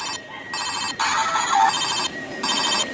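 A toy telephone rings in bright electronic bursts, starting and stopping in a repeating pattern, clear and close.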